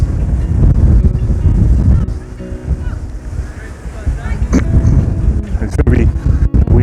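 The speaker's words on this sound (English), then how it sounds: "It's very windy." Strong gusts buffet the microphone in Greenwich Park, loud low-pitched rumbling that surges and drops in uneven bursts, with a person talking partway through.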